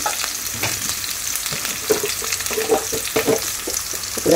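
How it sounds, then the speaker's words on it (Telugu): Chikkudukaya broad beans frying in a pan give a steady loud sizzle, with intermittent scraping and stirring knocks close by. "కొంచెం బాగా మగ్గిన తర్వాత చిక్కుడుకాయలు వేయాలండి."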